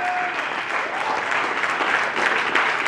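Wedding guests clap together in a dense, sustained round of applause, loud and close, filling the room without a break.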